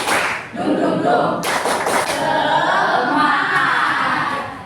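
A school class does tepuk semangat, a rhythmic patterned clapping routine, with loud, close clapping from many children mixed with their chanting voices in a classroom.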